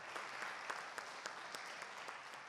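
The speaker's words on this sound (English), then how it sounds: "Huge round of applause for Chris Warrick, please" Applause from a conference audience for speaker Chris Warrick at the FUSION24 event, a fairly faint, steady patter of many hands with a few sharper claps standing out, sustained throughout.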